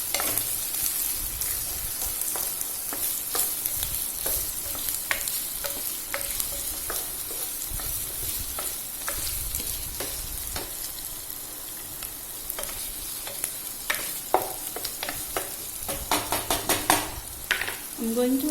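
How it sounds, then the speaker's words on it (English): Chopped onions sizzle and fry in a pan as the base of a marinara sauce, with steady crackling and occasional stirring scrapes and utensil clinks close by, no talking. "while these onions are cooking, I will blend the rest of the ingredients."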